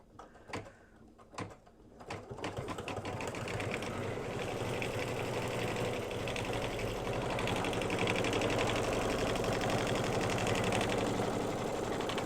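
A home embroidery machine stitches a tack-down line on an in-the-hoop mug rug, a steady, fast mechanical whirring and ticking hum that starts after a few bumps and runs on continuously at close range.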